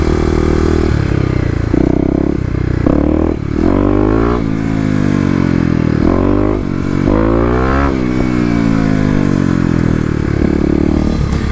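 A Kawasaki KLX250 dirt bike with a tuned fuel controller revs hard while doing power wheelies, loud and close, its engine climbing and dropping in repeated surges throughout.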